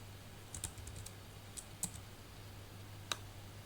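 Sparse keyboard typing while code is written in an Angular project: a few isolated key clicks at irregular moments over a faint steady hum, quiet and close, with no talking.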